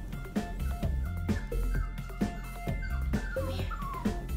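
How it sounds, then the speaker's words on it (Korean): A miniature poodle puppy whimpering and whining in short, repeated yelps, close by, between rhythmic thumping footfalls as it climbs stairs. "낑낑거리며 힘들다고 표현하지만 독한 주인 놈은 도와주지 않는다."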